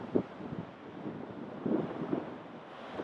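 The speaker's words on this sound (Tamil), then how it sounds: "இந்த இடத்துல வரக்கூடிய காற்று குழுன்னு அடிக்கக்கூடிய காற்று" Wind gusting across the microphone at the Tampines park connector in Singapore, a steady low rumble with a few stronger buffeting bursts, loud and close throughout with no talking.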